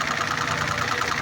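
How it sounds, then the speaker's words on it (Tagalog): A pressure washer motor runs with its gate valve closed, giving off a loud, steady mechanical hum and whir that stays even throughout. "ganyan ang ikot ng motor"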